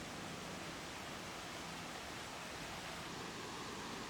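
Iguazu Falls on the Argentine side, where a calm river turns into violent falls; a steady, loud roar of rushing water fills the whole stretch without pause.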